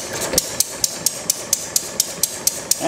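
An oil field engine idles close by, giving a steady rhythmic knock of sharp, evenly spaced beats, about four per second, over a low running drone.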